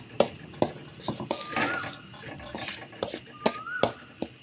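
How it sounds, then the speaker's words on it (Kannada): Ground peanut powder and poha (flattened rice) are stirred together for avalakki laddu, giving sharp spoon-on-bowl clinks and scraping in an uneven rhythm, close by and fairly loud, with no talk. "ಒಮ್ಮೆ ಇದನ್ನೆಲ್ಲ ಚೆನ್ನಾಗಿ ಮಿಕ್ಸ್ ಮಾಡ್ಕೊಳ್ತೀನಿ"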